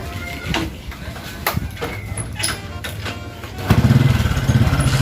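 A motorcycle engine idles and then revs up louder near the end, close by, with some voices and background noise earlier.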